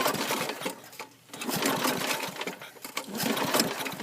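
Starter cord on a small lawn mower yanked repeatedly while the engine fails to catch: a run of close, loud rasping pulls, each with the sputtering rattle of the cranking motor, a short pause breaking them up.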